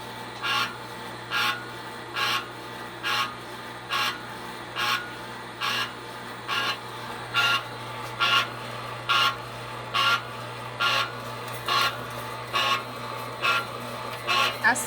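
A cocoa butter extraction machine working through a batch of cacao nibs, giving a steady mechanical hum broken by regular rhythmic grinding pulses roughly every second, close and continuous.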